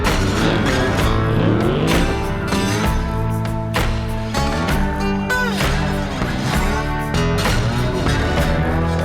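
V8 SuperUte racing flat out on a dirt track at Deni, a loud, continuous engine roar with rising and falling revs as it shifts, close and filling the whole clip.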